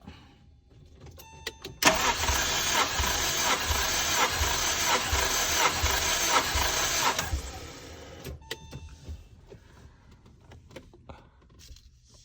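A Honda K24 engine with its spark plugs removed cranks over on the starter during a compression test, a steady rapid whirring drone lasting about six seconds, followed by faint ticking and clicking in the workshop.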